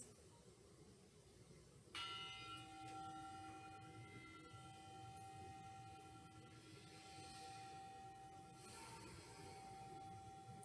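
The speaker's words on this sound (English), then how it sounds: "I'll begin with a bell" A single meditation bell is struck once to open a short mindfulness practice, a clear ringing tone that sustains and slowly fades over several seconds against a quiet room.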